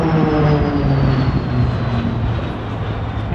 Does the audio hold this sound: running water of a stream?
no